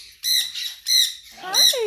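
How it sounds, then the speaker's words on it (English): Parrots at a parrot outreach society in Punta Gorda give three loud, harsh, close squawks in quick succession, each shrill and grating, with no talking. "Say, I got loud birds too."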